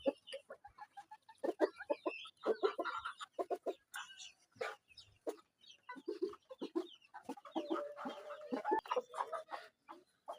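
Bahama breed roosters cluck and call in quick, loud bursts that come one after another, busy and close.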